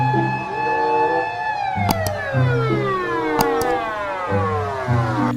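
A toy ambulance siren wails in sweeping, rising-and-falling electronic tones, repeating steadily and loudly close by, with a few sharp clicks partway through.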